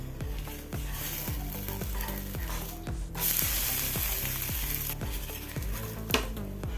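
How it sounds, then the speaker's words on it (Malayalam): Ragi dosa frying in oil on a hot pan, a steady sizzle running throughout with repeated sharp scraping clicks from a spatula as it is worked and flipped. "ദോശ വെന്ത് വരുമ്പം കുറച്ച് ഓയിൽ പരട്ടി കൊടുക്കാം തിരിച്ചിട്ട് കൊടുക്കാം"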